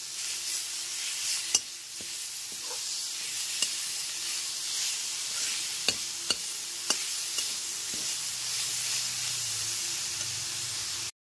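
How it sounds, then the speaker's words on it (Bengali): Ginger garlic paste fried with onions over a medium gas flame for a lentil khichuri, giving a steady sizzle with sharp clicks and scrapes of stirring throughout, no voices. "আদা রসুনের পেস্টটাও গ্যাসের ফ্লেমটা মিডিয়ামে রেখে পেঁয়াজের সাথে খুব ভালো মতো কষিয়ে নেব"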